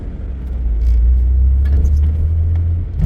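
A car drives through Adelaide city centre with a steady, close low rumble from inside the cabin, and faint scattered clicks and knocks over the hum.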